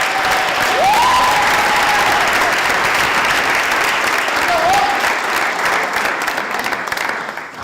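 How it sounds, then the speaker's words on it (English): Steady, dense applause from an audience at a school board of education meeting, loud and sustained across the whole stretch, easing slightly toward the end, with a few faint vocal tones rising over the clapping. "Please join me in one final round of applause for these 9 phenomenal"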